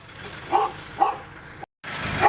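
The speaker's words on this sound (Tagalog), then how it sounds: "naingay po yung aso, pasensya na po" A dog barks twice near a workshop where an Isuzu Elf truck is being serviced, short yips spaced about half a second apart, then a brief cut and another bark at the end.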